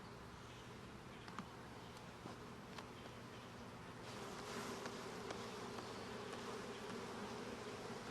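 Honey bees buzz faintly around a hive frame during a beekeeping inspection, a continuous soft drone of many insects that swells slightly in the second half.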